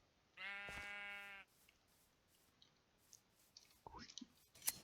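A Minecraft sheep gives one drawn-out bleat, clear and fairly close, followed by scattered soft clicks and faint game noises.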